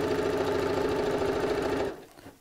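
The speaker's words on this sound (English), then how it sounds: "I'm just going to sew down one side" An electric sewing machine runs a seam along one side of fabric for a cushion, a close, rapid, steady whirring stitch lasting about two seconds before it stops abruptly.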